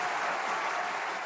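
A studio audience breaks into applause, a dense wash of clapping heard briefly and fairly loud, with no voices over it.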